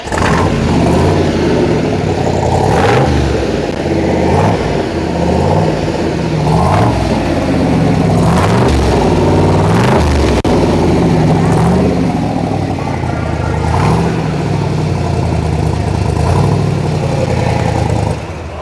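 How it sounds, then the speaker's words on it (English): A 1967 Corvette Stingray's 435-horsepower 427 big-block V8 with side pipes rumbles loudly nearby, repeatedly revving up and dropping back to a deep, throaty idle. "This is a 435 horsepower Corvette with side pipes."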